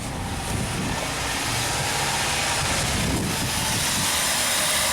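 A Dodge Caravan engine runs at high idle, above 1,000 RPM with the idle air control valve unplugged, a steady close drone with a constant whine and no talking.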